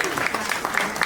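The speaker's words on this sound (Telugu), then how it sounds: "తేజశ్రీ క్లాప్ కొట్టండి." Applause from a small crowd at a prize-giving ceremony during a neighbourhood Ganesh immersion festival, brisk continuous clapping close by, lasting about a second with voices mixed in.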